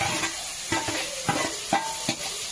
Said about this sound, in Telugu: ఆలుగడ్డ, క్యారెట్ గుడ్లు కలిపి ఇందులో వేసుకున్నా. మంచిగా ఫ్రై చేసుకుంటున్నాం.